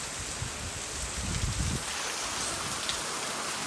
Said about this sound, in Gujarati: વરસાદ બહુ એટલે બહુ જાજો છે